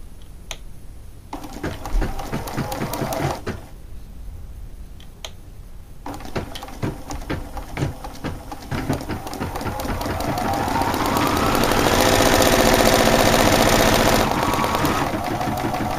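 A Bernina sewing machine stitches in short bursts, a fast mechanical whirring hum that stops and restarts, then builds to a longer continuous run, heard up close.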